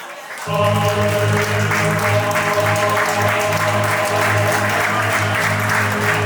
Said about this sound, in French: Merci d'applaudir très fort, s'il vous plaît.